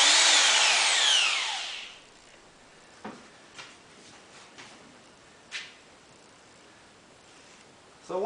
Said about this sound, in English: just to speed things up, I like to use my electric wrench